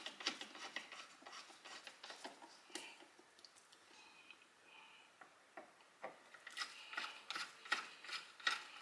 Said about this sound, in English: I'm screwing back in place.